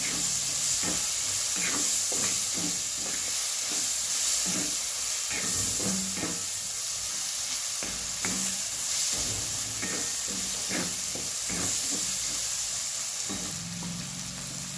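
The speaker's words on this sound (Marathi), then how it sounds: "आता टाकूया बघा टोमॅटो मिक्स करून चांगलं भाजून घेऊया" Tomato and onion masala fries in a pan with a steady, close sizzling hiss, broken by repeated scraping and stirring strokes at an uneven rhythm throughout.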